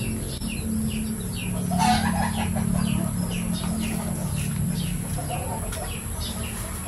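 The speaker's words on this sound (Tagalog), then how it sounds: "Ayan yung aking matandang inahin dito" An old mother hen clucks in a backyard flock, with repeated short calls and other chicken and bird chirps over steady low background noise.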